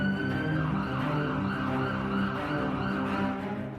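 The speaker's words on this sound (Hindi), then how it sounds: "शहर में सायरन का शोर रह रहकर सुनाई दे रहा है।" City sirens wailing across Taipei, a sustained, loud mix of overlapping siren tones over steady traffic noise with no talking.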